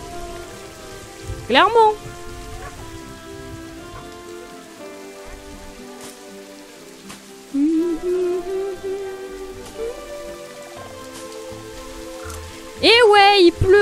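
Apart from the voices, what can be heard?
rain in Planet Zoo video game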